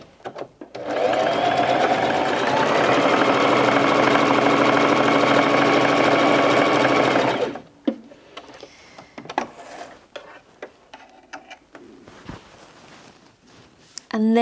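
A Bernette 05 Crafter sewing machine runs a straight stitch at 3 stitch length in one loud, steady whirring burst of about seven seconds, then stops, leaving scattered handling clicks and rustles.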